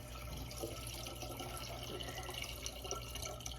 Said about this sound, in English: More water. It's dripping.